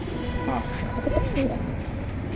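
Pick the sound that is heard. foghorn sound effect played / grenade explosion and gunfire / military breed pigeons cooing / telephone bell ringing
military breed pigeons cooing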